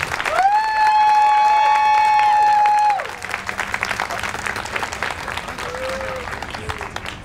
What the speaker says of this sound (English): I just would like to give a little round of applause for you for everything you do